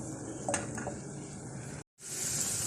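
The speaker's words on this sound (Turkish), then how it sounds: "Bir yemek kaşığıdan biraz fazla yağda iyice yumuşayıncaya kadar kavuruyorum" Finely chopped onion softens in a little over a tablespoon of oil, giving a steady close sizzle with a couple of light utensil clinks early on, then a brief dropout before the frying hiss returns brighter.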